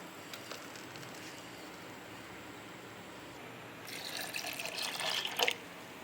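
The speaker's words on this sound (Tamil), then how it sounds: "மிக்ஸி ஜாரை கொஞ்சமாக தண்ணி ஊற்றி கழுவி ஊற்றி" Water runs steadily in the background, then a louder splashing pour swells near the end as a mixer jar is rinsed, before stopping abruptly.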